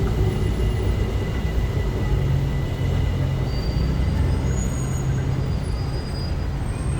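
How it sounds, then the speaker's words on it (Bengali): An MRT train rolls past in the busy KLCC area of Kuala Lumpur, a steady low rumble mixed with city traffic noise, continuous and fairly loud with faint high whines. "ওই যে এমআরটি ট্রেন যাচ্ছে।"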